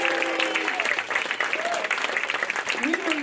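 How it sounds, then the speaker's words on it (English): Audience applause at a live performance event, steady clapping filling the room with some faint voices mixed in, moderately loud and continuous throughout. "Let's give another round of applause today."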